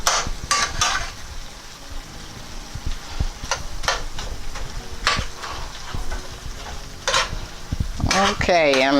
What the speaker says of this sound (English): As you see, I'm chopping it as I mix it in.